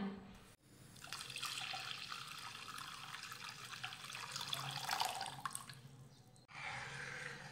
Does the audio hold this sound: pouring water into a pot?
yes